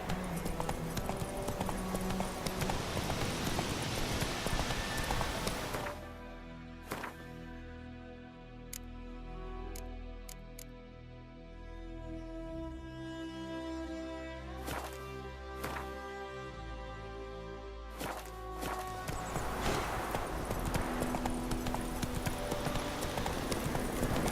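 Roach, a horse in The Witcher 3 video game, walks with steady clip-clop hoofbeats, close and clear over an ambient game backdrop, the steps softening in the middle stretch before returning.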